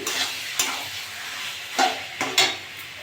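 Taro leaves (kochu shak) being stirred in a frying pan with prawns, a soft steady sizzle broken by several sharp scraping clatters of a spoon against the pan.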